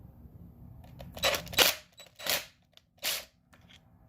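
An impact gun works a clutch bolt on a 2002 Suzuki Busa, giving three or four short, sharp rattling bursts close by, separated by brief pauses in an otherwise quiet garage.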